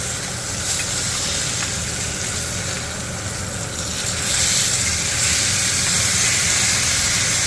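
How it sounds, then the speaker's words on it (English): Wagyu beef sears in a hot pan with loud, continuous sizzling and hiss, close up, swelling a little louder partway through. "And that hot sear, that's really a great crust."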